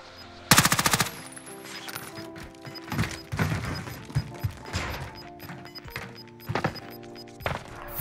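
Gunfire from the OTs 9 submachine gun in Warzone, with electric tracer rounds: a loud, dense full-auto burst up front, then scattered shots and impacts and a few later bursts, with no talk.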